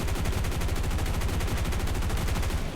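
Machine guns of a P-47D-28 Thunderbolt in War Thunder hammer out a steady, rapid stream of loud shots with an even rhythm, continuous from start to finish with no voices.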